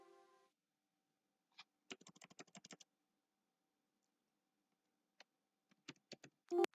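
Computer keyboard typing in short bursts: a quick run of clicking keystrokes, a pause, then scattered single taps and a final flurry, close and fairly quiet in an otherwise silent room.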